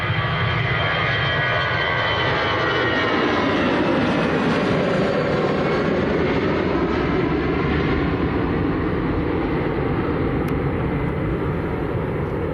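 An EasyJet airliner headed for the Isle of Man rumbles at Manchester Airport in a loud, continuous engine roar that holds steady throughout, close by and without talk.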